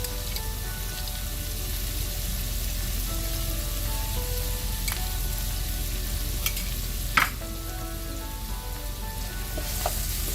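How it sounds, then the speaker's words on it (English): Noodles and sauce sizzle and are stirred in a hot pan for garlic shrimp egg lo mein. A steady, fairly loud frying hiss runs throughout, with a few sharper scrapes or clicks. "it's time to add the noodles. Along with the sauce."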